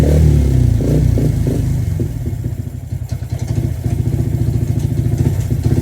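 A Yamaha Sniper 150 motorcycle fitted with a 61mm piston, started manually by turning the rear wheel because of a flat battery, runs loud and close with a chugging, pulsing rhythm and rising revs.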